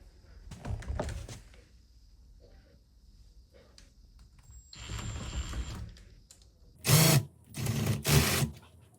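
Screws are driven in while a patio sofa set is assembled, producing several short bursts of close mechanical whirring and ratcheting separated by quiet pauses and small handling noises.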